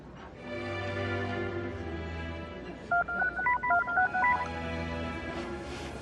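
A telephone number is dialed, a quick run of about ten touch-tone beeps in an uneven rhythm, clear and close, over a steady background of soft music.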